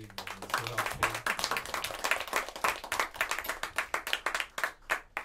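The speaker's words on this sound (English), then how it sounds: "please a round of applause for the staff and crew of City Music." Audience applause for the staff and crew of a music store at a live in-store gear demonstration, dense clapping filling the room and holding steady for several seconds with no talk over it.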